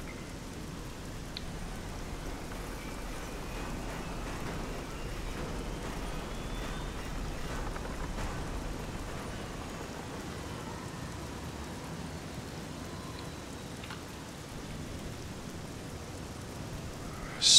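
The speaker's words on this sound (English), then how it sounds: "Can hear the rain coming down" Steady rain pours down during a storm in the video game Fallout 3, an even wash of hiss that runs on without pause, with no voices over it.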